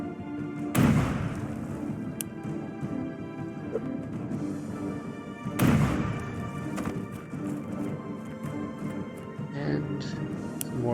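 Two heavy grenade explosions in the video game SCP Operations, each a loud deep boom with a rumbling tail, about five seconds apart, over continuous game ambience.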